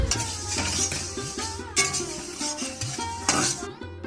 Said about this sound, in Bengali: বাবা দোকানের মশলাগুলো ভেজে নিচ্ছে